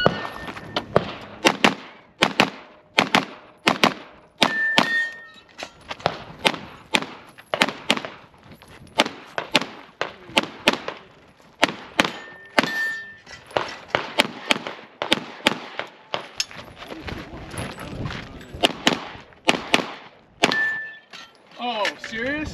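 Pistol shots from a TP9 during a USPSA stage, dozens of sharp, loud reports in quick strings and bursts with brief pauses, plus occasional timer beeps and people talking among the shots.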